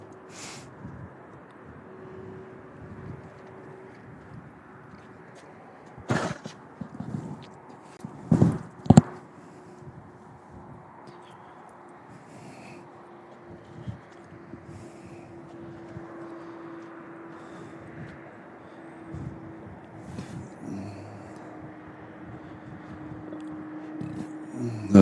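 Distant Boeing 767 airliner engine drone at Louisville International Airport, a low steady hum running throughout, broken by a few sharp clicks and thumps partway through.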